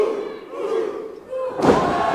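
Pro wrestling crowd in an arena murmuring and rising in anticipation, then a heavy thud as the inchworm move lands on an opponent, followed by a loud roar of reaction.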